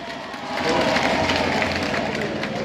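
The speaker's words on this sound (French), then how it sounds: "Applaudissez pour vous-même." Audience applause at a public gathering in Labé, Guinea, a dense crowd clapping that swells after a moment and holds steady, with murmuring voices mixed in.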